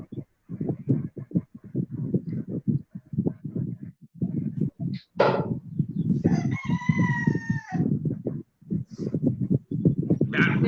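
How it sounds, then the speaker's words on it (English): A rooster crows once, loud and near, in a drawn-out call that cuts across a person talking in a classroom-style lesson, with the speech resuming around it. "That rooster."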